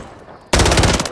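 Pistol gunfire in the video game Modern Warfare 3: a loud burst starts abruptly about halfway in and continues as rapid, dense shots after a quiet lead-in.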